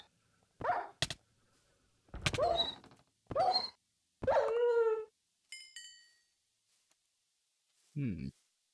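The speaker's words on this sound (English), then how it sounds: "Fucking dog." A dog barks and whimpers in several separate bursts, sharp yelps and drawn-out whiny cries spaced by silences, with a bright electronic tone in the middle.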